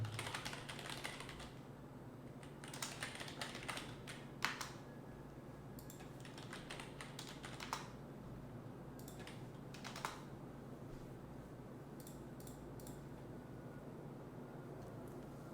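Keys clatter on a computer keyboard as a search term is typed, bursts of quick taps separated by short pauses over a steady low hum, fairly close and moderately loud, with no one speaking.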